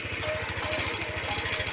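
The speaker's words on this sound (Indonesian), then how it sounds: "Nah, ini suara mesin belum ganti oli guys." A Honda Vario 160 scooter engine idles before its oil change, a steady low rhythmic putter with a faint rattle, close and constant throughout with no talk.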